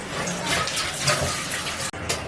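Water pours into a pot of fish curry (chepala pulusu) in a home kitchen, a continuous splashing gush that breaks off briefly near the end and then resumes.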